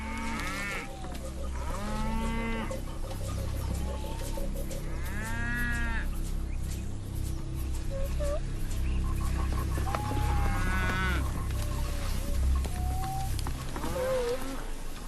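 Several cattle moo repeatedly in Ngorongoro, Africa, long low calls overlapping one another against a steady rumbling farmyard background, some lowing nearer and louder than others.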